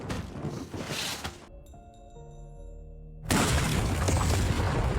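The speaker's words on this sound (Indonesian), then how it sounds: "ledakan besar mengguncang gedung" A big explosion in a drama scene, heard as a deep boom followed by shattering and breaking debris rolling through a building. It is loud and close, with a low tonal rumble swelling in between, and no speech.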